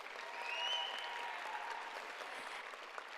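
Steady, even applause from the crowd at a high school graduation ceremony for top-ranked graduates, a distant wash of many hands clapping without a break and no speech over it.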